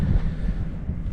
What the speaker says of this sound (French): Avec tout le vent qu'il y a, c'est waouh.